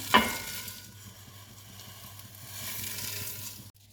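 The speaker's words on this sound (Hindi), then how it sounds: "अब सेवइयां हमने डाल दी हैं इसके अंदर घी में" Close sizzling and crackling as thin vermicelli noodles fry in hot ghee, a steady hiss with faint stirring scrapes, quieter toward the end.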